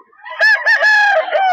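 A 16-month-old rooster crows once, loud and close, in a single drawn-out call with a rising start and a long wavering tail, with no other sound around it.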